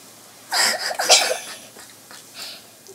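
A man's loud, explosive sneeze up close, followed by a second burst and some fainter breathy sounds.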